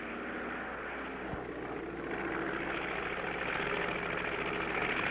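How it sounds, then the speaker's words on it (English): A cartoon airplane flies through a narrow gap among icebergs, its steady engine drone loud and continuous, swelling slightly in the second half with no talk. "We're going to thread a needle with an airplane."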